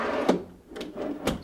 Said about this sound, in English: See how the drawer opens all the way, giving you complete access to the back of the drawer?